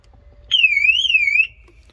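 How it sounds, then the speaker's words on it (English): A Honda CR-V's car alarm gives a single electronic tone that warbles up and down for about a second, loud and clear over a low background hum, then stops. "when I plug this in, it will make an alarm sound"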